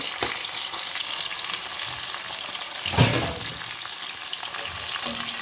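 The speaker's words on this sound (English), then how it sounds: "Here goes my curry leaf and my chilies and my onions. I will let it fry." Curry leaves, chilies and onions frying in hot oil make a dense, steady sizzle, close and loud, with one brief stirring clatter partway through and no voices.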